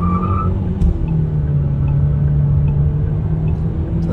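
A KMC J7 car pulls hard from standstill toward 100 km/h on an uphill slope, its engine a steady droning rumble with faint whistling over road noise, heard from inside the cabin.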